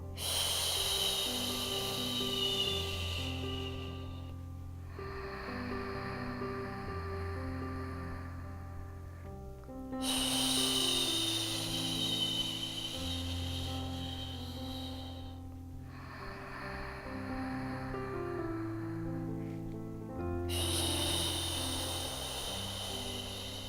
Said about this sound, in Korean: 숨 마시고 확장, 내쉬고